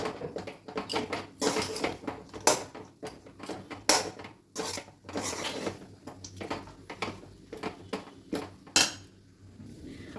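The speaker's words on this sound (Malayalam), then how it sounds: "എല്ലാം കൂടെ നല്ലതുപോലെ ഇളക്കി യോജിപ്പിച്ച് ഹൈ ഫ്ലെയിമിലൊന്ന് ഇളക്കി വേവിക്കണം" A spatula clatters and scrapes against a pan as mixed breakfast ingredients are stirred over a high flame, with irregular close metallic clanks and knocks throughout.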